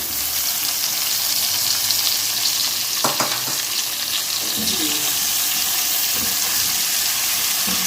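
Capsicum tipped into a pan of fried chicken for chicken manchurian, giving a loud steady sizzle with stirring clatter and spoon scrapes throughout.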